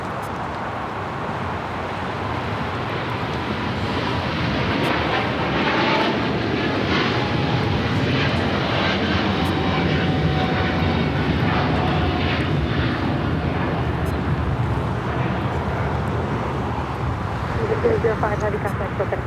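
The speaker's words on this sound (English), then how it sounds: "This is Eva Air Flight 5 taking off to Taipei on a 777-300ER in the Star Alliance livery." An EVA Air Boeing 777-300ER in Star Alliance livery takes off at LAX, its jet engines a loud sustained roar that holds steady throughout, with people talking faintly underneath.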